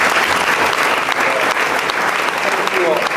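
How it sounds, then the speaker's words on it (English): An audience applauds students at a school board meeting, a steady, dense wash of clapping that holds loud and even throughout, with faint voices mixed in beneath it. "We have a little round of applause."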